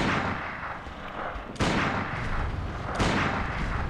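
Gunfire in the Bloodborne video game, two loud sharp blasts about one and a half seconds apart over a dense rumbling game soundscape, each followed by a lingering booming tail.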